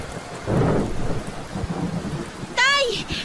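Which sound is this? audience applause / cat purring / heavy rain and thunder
heavy rain and thunder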